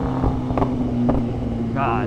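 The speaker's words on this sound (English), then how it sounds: "the pops on this bike" A BMW S1000RR motorcycle riding through Dallas traffic, its exhaust giving a few sharp pops over a steady engine drone; a rider exclaims briefly.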